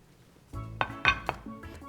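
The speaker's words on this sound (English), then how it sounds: "Gonna bring over my plate." A plate holding chicken wings is carried over and set down with a few close clinks and clacks of dishware, two sharper knocks in quick succession and a lighter tap after.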